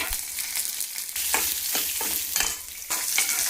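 Dried red chillies, garlic and ginger fry in hot oil in a pan with a continuous loud sizzle, broken by close stirring scrapes and surges as the ingredients are tossed.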